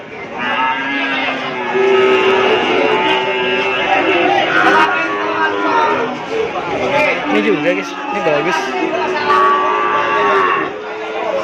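Madura cattle at a village livestock market in Kepo, with lowing moos rising over steady crowd hubbub while someone talks close by throughout.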